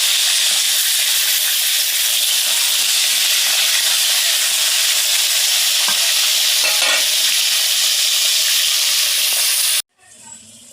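Ridge gourd curry sautés loudly in a pan as a dense, steady sizzle and hiss that runs unbroken for about ten seconds, then cuts off abruptly to quiet.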